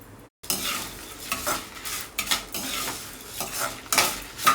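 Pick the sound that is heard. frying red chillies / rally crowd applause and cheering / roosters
frying red chillies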